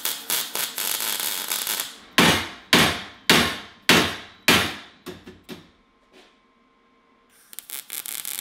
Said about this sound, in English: I just beat it down with a rubber hammer